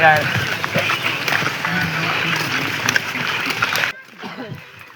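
Nearby muddy water splashes and churns as someone swims, with voices over it, before the sound drops abruptly to a quieter background.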